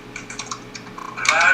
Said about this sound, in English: They're typing now.